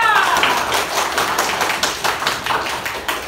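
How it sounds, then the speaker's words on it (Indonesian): Hands clapping in a classroom group, a quick burst of fairly close, rhythmic claps running steadily for a few seconds after a teacher's cheer, with a brief voice at the very start. "Tepuk tangan untuk kita semuanya."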